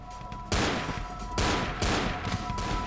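Enemy gunfire in Vampire the Masquerade Bloodlines, a few loud, harsh bursts of shots close by over constant game background noise.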